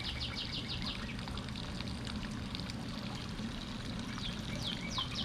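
Silty water runs steadily from a garden siphon in a vegetable bed, a continuous close trickle and gush with faint birds chirping in the background.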